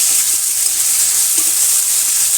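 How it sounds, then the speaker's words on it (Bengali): Cumin and ginger frying in hot oil in a village kitchen give off a loud, dense, continuous sizzle, close and steady, with no voices. "এখন জিরে আদাটা দিয়ে দেবো পালং সাথে আদাটা কষিয়ে"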